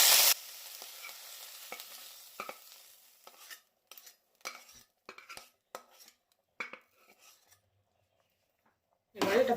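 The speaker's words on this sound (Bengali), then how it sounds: "এবারে এটা ভালো করে মিশিয়ে নেব।" Fried winter vegetables are stirred into vegetarian khichuri in a pot, with irregular scraping and clinking of a utensil against the pan over a faint sizzle, separated by short pauses.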